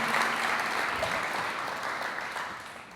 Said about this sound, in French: Mais c'est pas mal, on les applaudit bien fort.